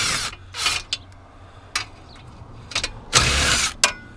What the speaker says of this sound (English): I just go with the drill.